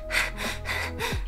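Voice imitating fearful, gasping breaths of the kind dubbed into horror films: four sharp, close inhalations in quick succession, breathy and loud, with no words spoken.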